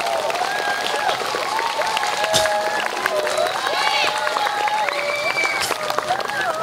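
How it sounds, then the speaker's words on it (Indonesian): Audience applause during a school Independence Day ceremony, a steady crowd clapping wash lasting throughout, fairly loud and continuous with a voice speaking over it. "Beri aplaus."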